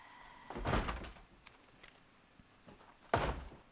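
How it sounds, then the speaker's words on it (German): A zombie bangs on a door in Project Zomboid, two heavy knocks spaced a few seconds apart. Each is a dull, close thud over a faint background hiss. "können Sie bitte aufhören, an meiner Tür zu klopfen?"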